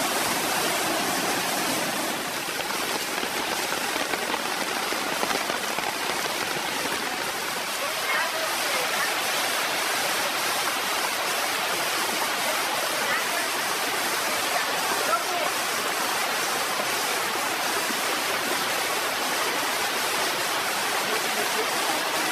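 Floodwater rushing through a German town, a dense, constant roar of torrential water, loud and unbroken, with a narrator's voice speaking over it.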